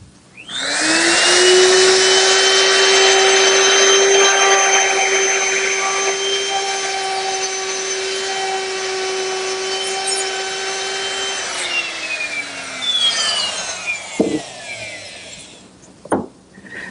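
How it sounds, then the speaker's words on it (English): A router with a chamfering bit whines at a steady high pitch while cutting chamfers on wooden posts, loud and close for about twelve seconds, then spins down, followed by a few knocks of wood being handled. "All of those are accomplished using this chamfering bit"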